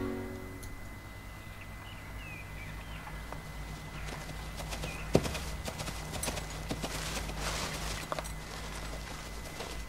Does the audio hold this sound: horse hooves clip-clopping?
yes